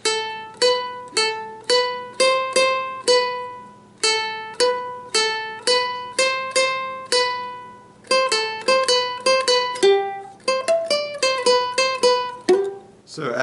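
Ukulele playing a video game theme, a bright plucked melody of quick single notes and short runs in steady rhythm, close and clear with no talking.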